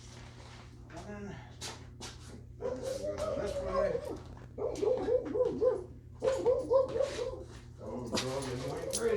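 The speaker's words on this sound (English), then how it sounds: "Oh, the dog is going crazy again outside." A dog outside yips, whimpers and barks in excited bursts while a tent is being put up, heard under and between a person talking nearby.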